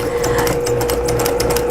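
A sewing machine stitching a French seam on fabric, a fast, steady mechanical whir with a constant tone and rapid needle ticking, close and alone.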